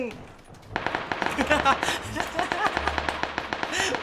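Rapid crackling gunfire from PUBG, a battle royale shooter, erupts after a quiet start and continues in dense bursts, loud and close, with talk over it.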